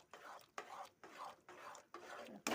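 Carrot halwa being stirred in a pan after cardamom and nutmeg go in, a spoon scraping in repeated strokes with short pauses between, soft and close.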